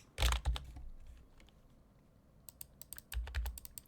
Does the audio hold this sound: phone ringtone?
no